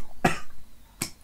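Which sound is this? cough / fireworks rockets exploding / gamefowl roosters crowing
cough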